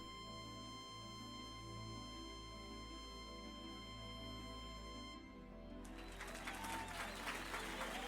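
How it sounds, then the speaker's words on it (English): A crowd bursts into loud applause in the visual novel Rose Guns Days, a dense wash of clapping that starts suddenly after a stretch of steady music and continues to the end. "ended with an ear-splitting applause, whistles, and shouts of joy"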